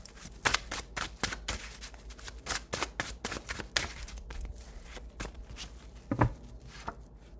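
Tarot cards being shuffled and drawn by hand, a rapid series of crisp papery riffles and flicks in close, uneven bursts, with a firmer snap near the end.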